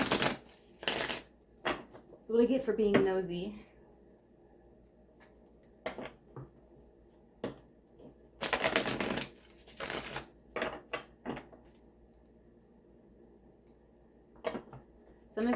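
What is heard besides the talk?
shuffling a deck of cards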